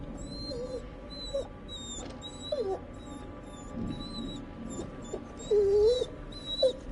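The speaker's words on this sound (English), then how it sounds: "Like, whimpering." A dog whimpers in a PS5 Dark Pictures horror game, giving several high, thin whines and wails at irregular intervals over a low ambient drone and high electronic tones.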